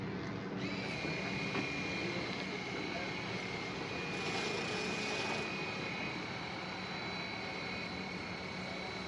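Concrete being cleaned with a DeWalt 550 pressure washer fitted with a turbo nozzle, a steady, dense motor drone and rushing spray continuing throughout at moderate level, with a brief change in the high hiss midway.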